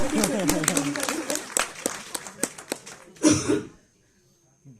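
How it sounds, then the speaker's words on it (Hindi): Audience applause with dense, uneven claps and a few louder cracks at a talk event, breaking off abruptly into a brief burst of crowd noise before fading to near silence. "ठीक है, तालियां बजती रहनी चाहिए"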